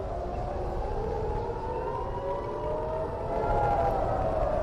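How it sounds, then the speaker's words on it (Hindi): Rising and falling air raid siren wails sound continuously over a steady background rumble during an Iranian missile attack on Israel, loud and sustained throughout with no voices. "पूरे इजराइल में इस वक्त सायरन की आवाजें बज रही हैं"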